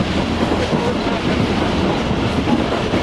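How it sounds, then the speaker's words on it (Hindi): The Tezgam overnight passenger train running on the track from Karachi toward Khanpur gives a loud, continuous rumble with rapid wheel clatter, heard from inside the carriage, with no voices over it. "तो ये कुछ स्पीड है जी अभी फ़िलहाल हमारे ट्रेन की"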